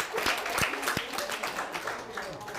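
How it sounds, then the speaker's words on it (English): Participants at a cabin crew open day applaud after an aircraft evacuation drill demonstration, a short round of clapping from a small group with a few sharp individual claps and voices mixed in. "Give yourselves a round of applause for that."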